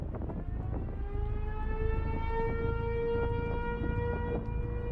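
Tornado warning sirens sounding during the Moore tornado: a steady, rising wail that holds and bends over several seconds above a heavy, continuous low rumble.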